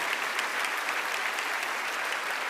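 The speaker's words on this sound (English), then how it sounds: "can we clap it up for our families?" A keynote audience claps for their families in a dense, even round of applause, close and full, sustained throughout with no speech on top.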